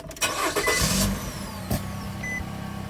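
A 2011 Nissan Rogue drives after its check engine light was cleared and its mass air flow sensor and air filter were checked, giving steady close road and engine noise with a brief louder surge near the start.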